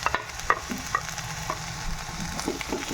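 Bitter flowers frying with eggplant in a pan give a steady, close sizzle, broken by regular clicks and scrapes of a spoon stirring. No one speaks.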